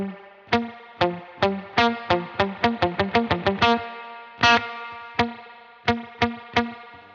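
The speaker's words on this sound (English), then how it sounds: "you can hear that little drip that makes it sound like a spring reverb." Single plucked electric guitar notes ring out through a UAFX Lion 68 or Dream 65 amp pedal, each followed by a short, wet, dripping spring-reverb tail, played in a loose rhythm.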